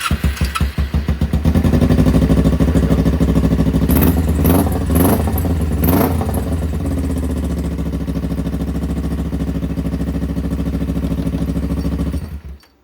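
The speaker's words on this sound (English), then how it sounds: "I'm gonna put everything back together and I'm gonna test start it" A freshly repaired starter motor cranks an engine, which catches after a couple of seconds into a loud, close, steady idle with rhythmic clatter before it cuts off, no talk.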